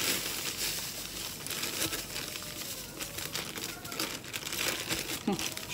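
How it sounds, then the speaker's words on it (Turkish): A plastic spice packet crinkles steadily as it is opened and poured into a home-cooked dish. The rustling is close and continuous, with no break through the whole stretch. "Şimdi bu paketi dökeceğiz."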